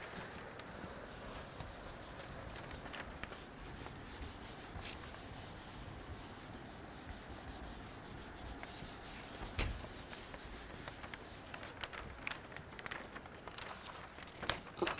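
Rubbing and wiping strokes of an eraser clearing writing from a classroom board, a steady scratchy friction that runs the whole time at moderate level, with occasional louder bumps.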